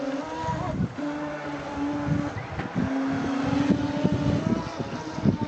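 A small remote-control speedboat engine whines and buzzes steadily with shifting pitch, accompanied by wind and splashing noise throughout.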